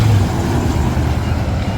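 A truck taxi, an open-air tour bus built on a truck, drives past on a street in St. Thomas, US Virgin Islands, its low engine rumble steady and close, with a brief hiss of air near the start.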